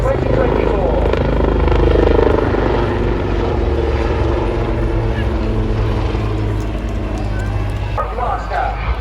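The Black Cat display helicopter flies at Southport Airshow 2024, its rotors throbbing loud and steady throughout while a commentator talks over a public address.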